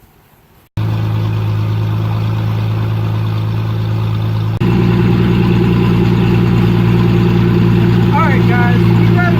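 A boat engine starts and settles into a steady low idle, growing a bit louder partway through, with faint chirps near the end.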